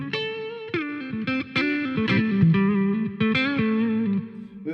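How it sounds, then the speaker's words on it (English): A distorted electric guitar played through a Peavey Vypyr Pro 100 amp with a long, pronounced cathedral reverb, a short run of picked notes and bends whose tails ring out and blur into one another. "Cathedral is the longest of the verbs, and more pronounced."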